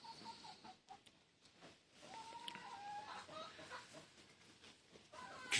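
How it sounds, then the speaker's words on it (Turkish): Chickens clucking softly at a distance, with occasional higher calls over steady outdoor background noise. "Tavuk var burada bak."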